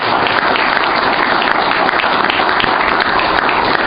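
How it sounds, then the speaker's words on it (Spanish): An audience breaks into sustained, loud applause at an anniversary event, with dense clapping from many hands that holds steady and unbroken the whole time. "quiero que recibamos con un aplauso a Norberto Negro"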